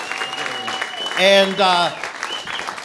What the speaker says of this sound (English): Let's give Graham another round of applause here for being here